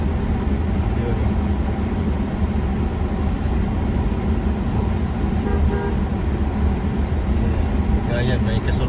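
An oncoming car meets and passes on a narrow road, heard as a loud steady engine and road rumble with short horn toots toward the end, while people talk throughout.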